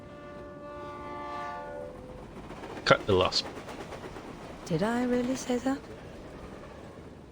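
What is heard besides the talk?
train passing in a video game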